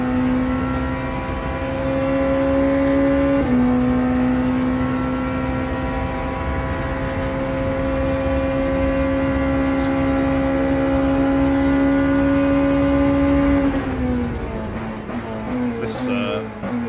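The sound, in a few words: race car engine driving in the video game Le Mans Ultimate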